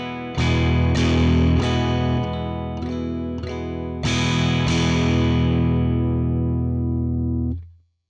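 Guitar played through an Axe-FX III modeler with dynamic depth boost engaged, a loud, full distorted tone with several strummed chords and picked accents in steady rhythm, the last chord ringing before a quick fade.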